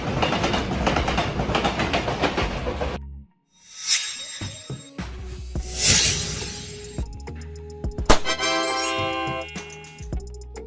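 A container freight train rolls past, its steady clatter breaking off into separate metallic clanks and scrapes, then ringing tonal squeals near the end, fairly loud and close with no voices.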